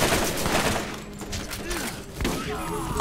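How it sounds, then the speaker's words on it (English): Rapid gunfire rattles in the Borderlands video game, a dense fusillade of close and distant shots crackling in uneven bursts with a pause around the middle before the shooting picks up again. "Who the hell is shooting at me?"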